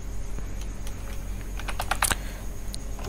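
Computer keyboard being typed on during a website design lesson, with quick irregular key clicks that cluster into a denser burst near the end over a steady low hum, close and without speech.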